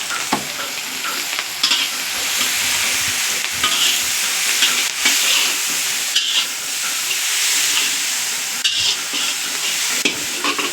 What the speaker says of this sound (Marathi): कढीपत्ता आणि आपण अद्रक, लसूण आणि मिरची बारीक केलेली आहे. हे आपण हे टाकायचं. याला चांगलं भाजून घ्यायचं.